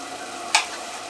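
A spoon makes a single quick scrape while stirring egg curry masala in a pan, one short stroke over quiet kitchen background.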